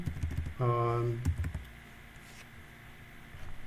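Typing on a computer keyboard while configuring a Palo Alto firewall interface, with scattered clicks over the first second and a half after a brief hum, then quieter scattered taps near the end.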